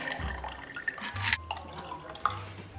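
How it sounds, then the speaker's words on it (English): A pink New Year's Eve cocktail is poured from a shaker into a glass, giving a faint, quiet trickle with a few soft drips and splashes and no talking. "And we pour."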